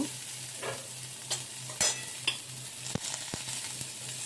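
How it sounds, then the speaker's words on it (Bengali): Onion frying in a pan for a raw pumpkin and pumpkin seed mash, with scattered stirring scrapes and light sizzling over a quiet, steady background; no talking. "পেঁয়াজটা ভালো করে ভেজে নেব"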